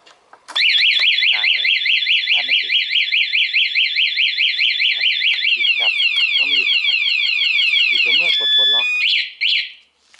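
A loud anti-theft alarm on a Honda Click 125i motorcycle warbles in rapid repeating siren sweeps for several seconds, then cuts off with a couple of short chirps.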